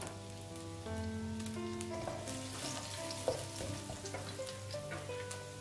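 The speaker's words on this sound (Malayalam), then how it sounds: "അപ്പോൾ നമ്മുടെ സെയിം ഓയിലിലേക്ക് തന്നെ അല്പം ഗാർലിക് ഇട്ട് കൊടുക്കുന്നത്." Garlic dropped into hot oil left over from frying chicken, for spicy Schezwan noodles, sizzles and crackles steadily throughout, close and continuous, with faint stirring and no talking.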